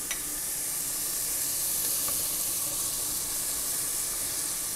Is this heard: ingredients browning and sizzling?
yes